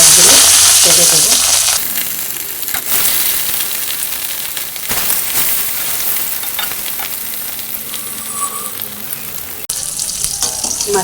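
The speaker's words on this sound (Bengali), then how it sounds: "তেলটা গরম হয়ে গেছে। একে একে মাছগুলো ছেড়ে দেব।" Pieces of rohu fish fry in hot oil for a rohu and potato curry, opening with a loud hissing burst that settles into a continuous, close, crackling sizzle with occasional sharper spits.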